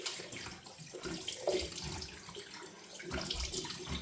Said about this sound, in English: I should rinse my face with cold water.